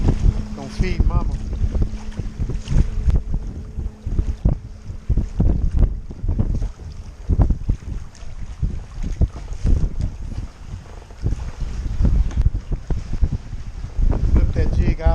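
Strong wind blows across Lake Conroe during crappie fishing from a Hobie Pro Angler kayak, heard as loud, constant gusty buffeting and rumble close to the microphone. Someone talks intermittently over it.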